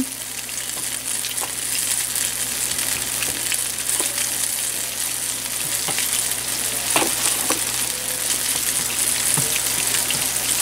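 Chicken pieces for a soy glaze, seasoned with pepper and a little salt, sizzling steadily in a pan, a loud continuous frying hiss with occasional small pops and crackles, close up and uninterrupted.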